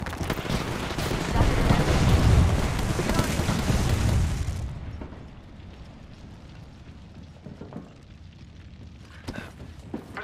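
A grenade blast in Apex Legends bursts loud and close in the first few seconds as a dense, heavy rumble, then drops away to a quieter scene with scattered small clicks and impacts.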